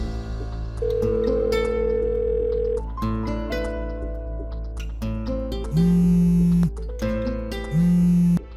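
An unanswered phone call rings out as repeated electronic tones, steady and prominent over a sustained hum and soft background music, with no voices.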